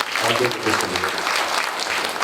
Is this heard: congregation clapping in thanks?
yes